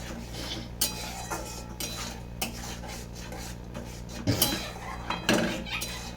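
A spatula scrapes and clinks against a pan while fish masala for pabda in mustard-poppy sauce is stirred and sautéed, giving irregular metallic knocks over a low steady background.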